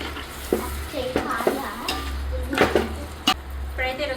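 Raw fish pieces stirred in a frying pan for a fish curry make close, repeated scraping and clinking of a spoon against the pan over a faint sizzle, with a voice talking in the background.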